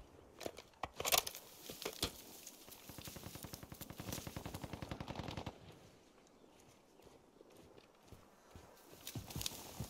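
Gunfire in the shooter game Call of Duty Warzone 2, scattered shots followed by a rapid automatic burst lasting a few seconds, then quieter movement and occasional distant shots, moderately faint.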